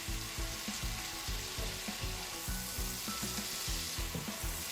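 Spice paste sizzling in oil in a pan for a coriander fish curry, a soft continuous fry with a rhythmic series of stirring scrapes and knocks, no talk.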